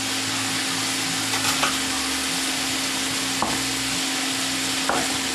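Garlic, tomatoes and chilies sizzle in a stir-fry pan for a vegetarian side dish, a loud continuous frying hiss with a few soft utensil knocks and stirring scrapes, with no talking.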